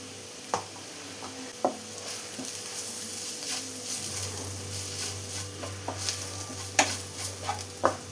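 Onions sautéing with turmeric and chili powder in a pan for stuffed idli filling, a soft steady sizzle with intermittent spoon scrapes and clinks, close and alone without talk.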